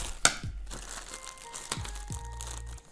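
Plastic packaging of a figure being cut open with a small scalpel, a sharp snap followed by crinkling and rustling of the wrap, close and fairly quiet.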